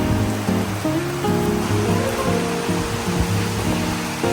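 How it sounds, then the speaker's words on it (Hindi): Heavy rain pours outdoors as a steady, dense, loud hiss that fills the whole span, with some tonal layers running over it. "बहुत पीछे साउंड आ रही है बारिश की"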